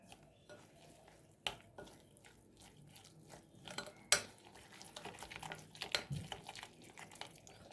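Spices being stirred into sour yogurt in a bowl with a spoon, giving soft scraping and clinking taps of cutlery against the dish, close up and fairly quiet.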